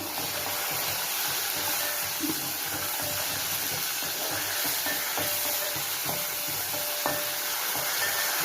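Dry red chillies, cumin seeds and curry leaves fry in hot oil for a Telugu leafy-greens and tomato curry, giving a steady close sizzle with faint scattered pops and a spoon stirring now and then, no voices.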